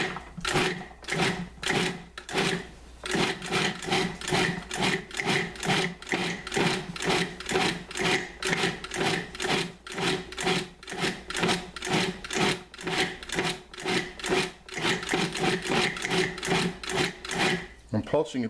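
A food processor pulses chopped liver in rapid repeated bursts, each a short whirring grind separated by brief pauses, close and fairly loud throughout.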